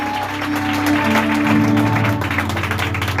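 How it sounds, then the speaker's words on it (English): A Sunday service congregation claps hands together in rhythm, the beat running beneath loud sustained music and tones. "Clap your hands for Jesus"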